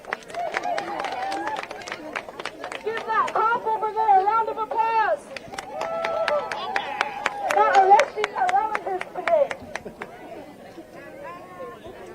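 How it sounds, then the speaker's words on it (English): Scattered clapping and cheering from an outdoor crowd at a justice march rally in Roosevelt Park, uneven and moderately loud, with chatter and voices mixed throughout. "Let's give all of our speakers and our organizers a round of applause"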